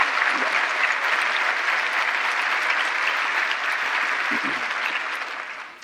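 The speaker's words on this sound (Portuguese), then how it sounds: "Portanto, mais uma salva de palmas outra vez." An audience claps in a sustained, even round of applause, close and full, tapering off at the very end.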